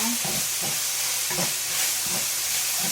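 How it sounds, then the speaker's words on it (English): Ground beef and okra sizzle in a hot pan while being stir-fried, a steady frying hiss broken by soft periodic scrapes and stirs of the spatula, close and moderately loud with no talking. "just stir fry to mix the ground beef very well with the okra"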